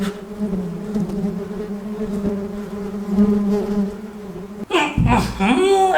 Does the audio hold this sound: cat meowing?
no